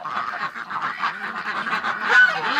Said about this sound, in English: let's let these ducks out